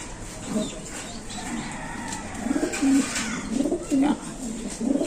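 Racing pigeons coo close by in low, rolling repeated calls that come several times over a steady background murmur.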